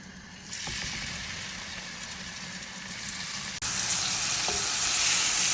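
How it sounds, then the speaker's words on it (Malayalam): Chicken pieces fry in a pan with coriander, pepper powder and salt, giving a steady soft sizzle that grows louder partway through as the pieces are turned. "എന്നിട്ട് നന്നായി തിരിച്ച് മറിച്ചിട്ടിട്ട് വറുത്തെടുക്കണം കേട്ടോ."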